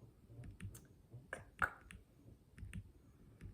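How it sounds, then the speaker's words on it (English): Faint, soft clicks from a computer mouse scrolling down a long web page, irregular and close, in an otherwise quiet room with no talking. "I bet this clicking noise of me scrolling down the Wikipedia page of List of American Films of 2024 is going to be very loud in the video."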